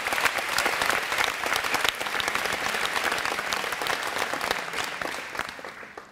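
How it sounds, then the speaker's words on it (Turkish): A studio audience at a Turkish talk show applauds loudly and densely, a close, sustained roar of clapping that slowly fades near the end. "Şaban abinin ne yaptığını söylemeden önce Şaban abiye bir büyük alkış alayım"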